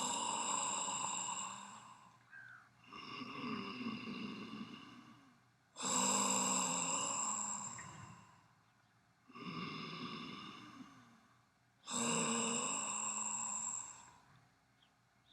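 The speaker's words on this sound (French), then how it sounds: "c'est inspire par le nez, expire bouche grande ouverte" Pranayama purification breathing in a yoga session, with slow deep nasal inhalations alternating with long, forceful exhalations through a wide-open mouth, about three full cycles, close and clear with no talking.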